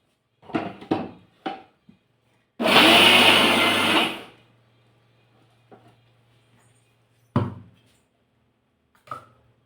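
A mixer grinder blends sesame seeds, jaggery and peanuts for til-gul laddoo in one loud burst of about a second and a half, set between short bumps, clatters and brief handling noises in a kitchen.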